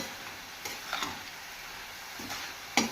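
Noodles and vegetables stirred in a hot pan for veg chowmein, with a low steady sizzle and a few sharp scrapes and clinks of the spatula against the pan.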